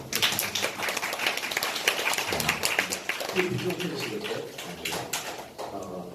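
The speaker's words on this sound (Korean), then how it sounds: "자, 일단 큰 박수 한번." A seminar audience applauds steadily for several seconds, dense clapping with some voices mixed in.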